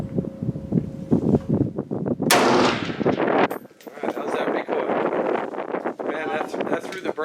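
Century Arms C308 rifle firing at an outdoor range, a sharp loud blast with a long rumbling tail, followed by wind buffeting and rustling noise across the microphone.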